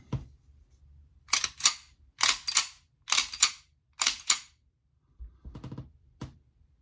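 A 10mm pistol's action is worked by hand, giving crisp metallic clacks and clicks in paired bursts, close and loud against a quiet background, ending with a few lighter clicks.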